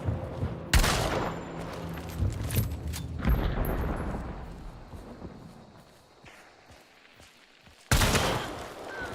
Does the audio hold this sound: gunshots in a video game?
yes